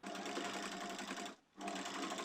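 A home sewing machine stitches fabric pieces for homemade juggling balls, a loud steady motor whir that stops briefly for a moment and then resumes.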